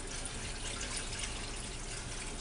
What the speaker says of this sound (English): We're going to pour this in to our roast.